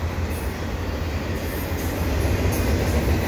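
A CN intermodal freight train passes near Valois EXO station, a loud continuous rolling roar with wheel noise and faint high squeals, steady throughout, no voices.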